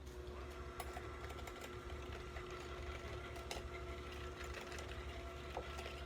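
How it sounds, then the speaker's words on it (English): A handheld electric mixer whips softened butter and sugar for a berry crisp, a steady mechanical whir running close and continuous with faint rattling through the whole stretch. "So I just have a handheld mixer here."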